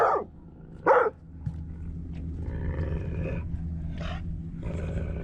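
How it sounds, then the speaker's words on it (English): A dog barks aboard a fishing boat on a river, giving several sharp, loud barks spaced irregularly, with quieter rough vocalizing between them. "And the dog is barking, and we think she's out of her mind."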